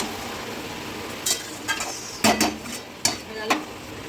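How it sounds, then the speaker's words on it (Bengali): A spoon stirring garam masala into jackfruit and prawn curry in a pot, giving a few faint scrapes and light clinks over a quiet background. "অল্প করে গরম মশলা দিয়ে দিলাম, মিশিয়ে নিলাম।"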